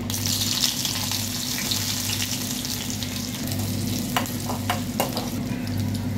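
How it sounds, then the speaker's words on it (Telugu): Onions frying in oil with mustard seeds, cumin and fenugreek, a steady close sizzle with faint stirring scrapes throughout, for a dry fish and brinjal dish. "ఇప్పుడైతే ఆనియన్స్ వేసుకోవాలి. ఆనియన్స్ వేసుకొని ఫ్రై చేసుకోవాలి."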